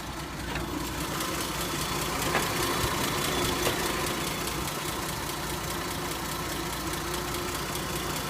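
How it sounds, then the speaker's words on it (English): A 1947 Dodge WD-15 pickup engine idles at its normal speed, a quiet, even, rhythmic running with a faint ticking pulse. "Now this is where it normally idles."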